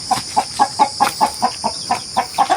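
Chickens, some already laying eggs, cluck in a steady rhythmic series of about a dozen close, clear calls with a constant hiss behind them.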